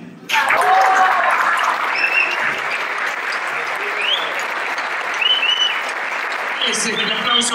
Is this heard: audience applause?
yes